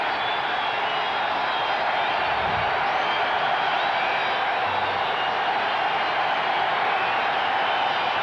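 A football crowd at RFK Stadium roars steadily through a 1993 Jets at Redskins game, a dense, sustained wash of cheering heard from a distance with no breaks.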